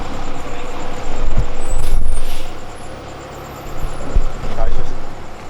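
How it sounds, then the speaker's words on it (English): A fire truck idles with a low rumble, punctuated by sharp hissing bursts of air brakes, while voices talk nearby. "There's a fire truck at our house."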